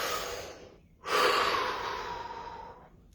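Two deep breaths, near and soft: a long exhale fades out, a short pause, then a strong inhale rushes in and slowly trails off, with no speech.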